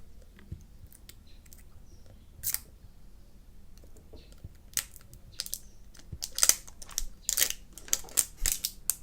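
Plastic wrap is torn off a plastic drink bottle up close, a series of sharp crinkling rips and crackles in irregular bursts that grow busier toward the end, with no talking.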